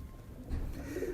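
A male breeder pigeon gives a short, soft coo, low and close, lasting about a second against faint background noise.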